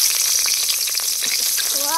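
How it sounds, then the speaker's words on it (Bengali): Chicken pieces frying in a pan for a village-style handi chicken, giving a steady, close, bright sizzle throughout with faint clinks and no talking. "আমি চিকেন ফ্রাই।"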